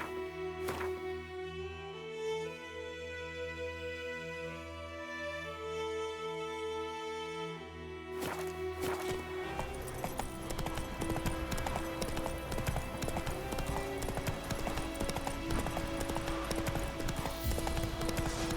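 A horse gallops in The Witcher 3, with rapid, steady hoofbeats that carry on throughout, first under a layer of music and then heavier and denser as the ride continues.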